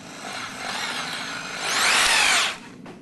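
An Axminster power nibbler fitted in the chuck of a mains-powered drill whirs steadily, then rises into a louder, harsher buzzing rattle as it cuts for about a second before cutting off sharply, heard close up with no voices.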